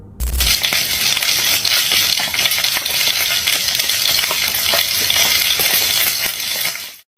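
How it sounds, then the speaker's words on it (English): Something bizarre, like a mutated alien bird, sizzles steadily in a frying pan, with a dense, continuous hiss and crackle of hot oil. It runs loud and close for several seconds with no talk. "It shows a bizarre creature sizzling away in a frying pan"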